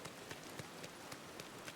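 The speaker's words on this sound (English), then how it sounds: "Raining in Eternity Isle right now." Steady rain falls in the video game Eternity Isle, a faint even hiss with light periodic taps and patters throughout, no talking.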